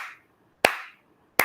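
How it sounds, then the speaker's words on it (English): Two sharp, loud hand claps ring out alone, a single clap followed by a second one less than a second later. "The way I clap, have you noticed?"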